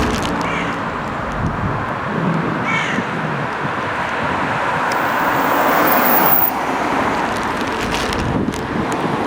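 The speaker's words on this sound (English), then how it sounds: "Some birds croaking." Crows cawing repeatedly over a steady wash of busy main-road traffic and wind beside a church, the calls carrying from a moderate distance.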